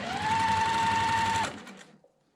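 A sewing machine stitches quilt strips with a quarter-inch seam, running in one steady, close, loud burst of about a second and a half before stopping.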